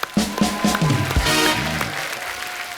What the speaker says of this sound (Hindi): सनी सर के लिए जोरदार तालियां।